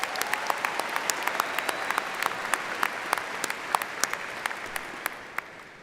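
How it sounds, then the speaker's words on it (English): Steady audience applause at a college of business commencement ceremony, a dense patter of many hands clapping with sharp individual claps standing out, fading slightly toward the end. "Another round of applause for Ashton."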